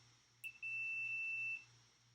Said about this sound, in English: we've got these ends to the multimeter, and if the ends connect, it beeps